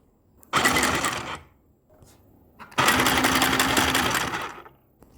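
A children's Barbie toy sewing machine runs in two bursts of steady, close, buzzing stitching. The first lasts about a second and the second runs nearly two seconds, with quiet pauses around them.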